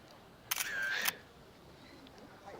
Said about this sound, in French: On va prendre la fameuse photo.